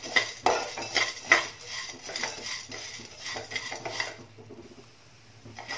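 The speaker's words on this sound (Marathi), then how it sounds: "तुपामध्ये हे डिंक आहे ते परतून घ्यायचं आहे." Edible gum (dink) roasted in a spoonful of ghee over a low flame for besan ladoos, a metal spoon clinking and scraping the pan in repeated strokes under a faint sizzle.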